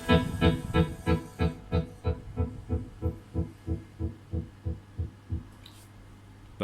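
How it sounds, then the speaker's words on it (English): Guitar played through the bias tremolo of a Tom'sLine (Aroma) AMS-3 multi-effect pedal at a faster speed, sounding as a steady rhythmic pulsing of chords, about three throbs per second, close and fairly loud, with no talking. "think that one's the bias tremolo."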